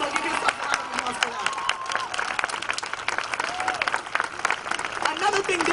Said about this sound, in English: So give yourself a round of applause for